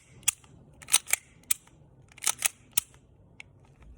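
A gas blowback airsoft pistol fires a quick string of sharp, close snapping shots, about ten in four seconds, some in rapid pairs, each a crisp metallic crack of the slide cycling, with no voices.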